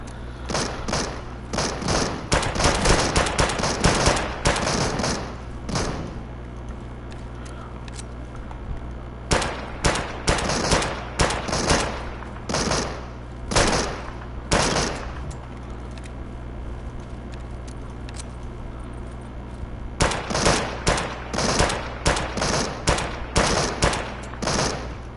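Rapid gunfire in a shooter video game against bots, repeated bursts of automatic fire in several volleys separated by short lulls, loud over a constant low hum.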